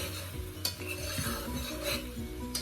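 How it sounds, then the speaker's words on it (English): A pot of Jamaican steamed fish with carrot and pumpkin being stirred, giving close, continuous scraping and light bubbling with a couple of utensil knocks against the pot. "Now you want to give this a stir."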